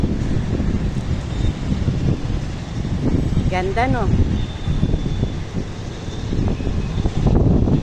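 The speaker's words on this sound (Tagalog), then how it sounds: "Wala man akong pera, at least ang hangin dito sobra-sobra." Steady wind blowing by the river at the local plaza in Calbayog, a constant broadband rush with microphone buffeting throughout, while a person talks over it.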